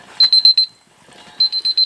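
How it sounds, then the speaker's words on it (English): A phone timer alarm goes off at a camp while crabs cook on a canoe trip on Scotland's west coast: two loud bursts of rapid electronic beeps, four beeps each, separated by a short pause, close and clear. "Handy little timer on my phone there."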